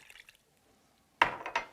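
Apple cider vinegar pours into a pot of sliced beets with water and sugar, a sudden close splash followed by a short bright liquid trickle, after a quiet start.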